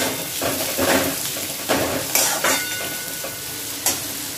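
Mixed vegetables including capsicum and cabbage stir-fried for hakka noodles in a pan over high flame, with a continuous loud sizzle and repeated scraping strokes of a spatula against the pan.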